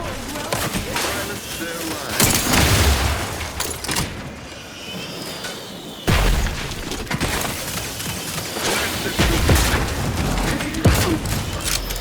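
Gunfire in The Outer Worlds 2, with bursts of shots and impacts coming in waves and a brief quieter stretch between them, mixed with game sounds and occasional speech.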